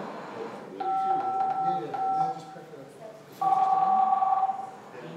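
A telephone rings in two tonal bursts, a short ring then a longer, louder one, with soft talk and room noise in the background.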